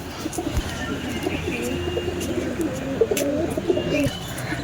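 Chini kaldam pigeons coo in soft, repeated low calls close by, over a steady background hum.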